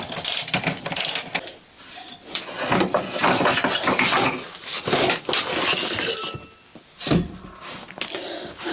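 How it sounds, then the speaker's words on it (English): Wrench and ratchet work on the rear wheel nut of a Yamaha XSR 125 motorcycle raised on a box, with repeated metallic clicks, clunks and grinding mechanical noises close by, continuing in uneven bursts. "I will now remove this rear wheel. If I can crack this nut."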